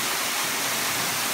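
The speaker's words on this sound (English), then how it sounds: "So we are actually behind the waterfall right here, dropping down right in front of us." A waterfall in the Grand Canyon's Clear Creek area pours down just in front of a spot behind the falls, a steady, dense, close roar of rushing water with no breaks and no voices.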